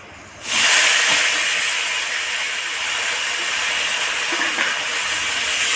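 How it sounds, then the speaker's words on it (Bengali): Potatoes drop into hot oil in a wok and set off a sudden loud, steady hissing sizzle that continues evenly and close up without talk. "আলু দিয়ে আমি ভেজে নেবো আলুগুলোকে লাল করে ভেজে নেব"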